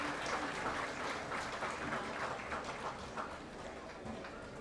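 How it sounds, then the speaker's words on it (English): Applause at a high school athletic booster club gathering, honoring the 2023 CHS cross-country team; steady, moderately distant crowd clapping that fades slightly toward the end. "A round of applause for our 2023 CHS cross-country team."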